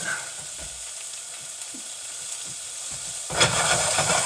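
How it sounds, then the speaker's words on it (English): Blue oyster mushrooms fry in a hot pan with a steady low sizzle and hiss, which swells into a louder burst of sizzling near the end, with no talk. "I think it's going to take a few minutes to get these mushrooms fully cooked up. Getting a little bit of a singe on them."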